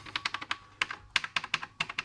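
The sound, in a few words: typing on Electronica CIP-03 Spectrum clone keyboard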